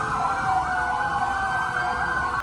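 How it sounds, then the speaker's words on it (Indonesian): Tactical police vehicles sounding sirens in Jakarta, a steady loud wail holding one pitch band continuously and close, with no talking over it. "sambil menyalakan sirine maupun rotator"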